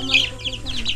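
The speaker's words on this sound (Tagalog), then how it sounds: "Ang daming manok ni Josilito." Chickens clucking and chirping close by in a quick flurry, several birds calling over a low background hum.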